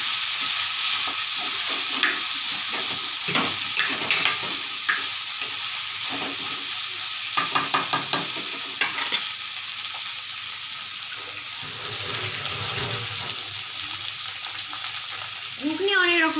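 Whole chickpeas for ghugni frying in a pan, with a loud, continuous close sizzle and repeated scraping stirs throughout. Faint voices come in briefly underneath.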